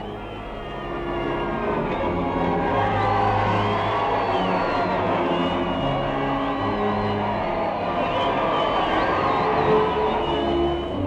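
A large crowd cheers and roars steadily throughout as an American Army contingent is received in England during the First World War, heard on old archival film with a dense, unbroken wash of massed voices.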